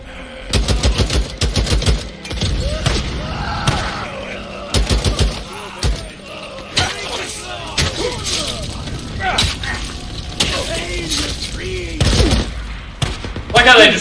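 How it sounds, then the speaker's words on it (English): Bursts of gunfire ring out in the video game Days Gone: rapid volleys and single loud shots, with crashing impacts between them and a voice talking over parts of the action. "I've got delayed gunfire as well"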